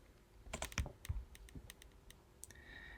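Brief burst of close keystrokes on a computer keyboard entering an IP address into a web browser, clustered taps followed by a couple of isolated presses.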